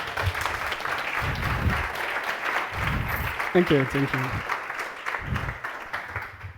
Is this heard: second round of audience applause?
yes